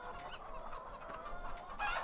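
Chickens in the farming game Farming Simulator 15 cluck softly and continuously at close range, a faint, steady farmyard murmur with a slightly louder burst near the end and no talking.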